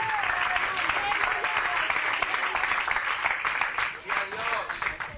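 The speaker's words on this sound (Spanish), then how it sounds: "Dele un aplauso bien fuerte al Señor en esta tarde." Dense, sustained clapping from a church congregation fills the whole stretch, steady and loud, with a preacher's voice rising over it now and then.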